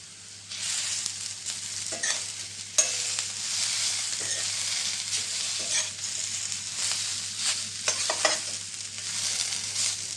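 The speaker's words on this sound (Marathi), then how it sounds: "आपली जी भेंडी आपण स्टफ करून ठेवली होती ती सगळी घालून टाकू याच्यामध्ये" Stuffed okra sizzles in a little oil in a pan, a loud and continuous frying hiss with occasional sharp clicks as a spatula stirs it.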